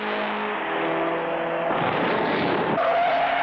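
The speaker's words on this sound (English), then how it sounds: "Clutch Cargo's car seems to have gone wild. He's lost control." A race car in a 1959 cartoon sliding out of control, a loud sustained tire screech with a whining engine tone that shifts pitch as it goes, close and continuous, with no voices.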